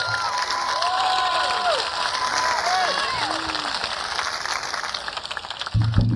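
A comedy club crowd at Laughs Unlimited in Sacramento applauds and cheers as a comedian is introduced, with dense clapping and high whoops and shouts over it. A voice speaks briefly near the end.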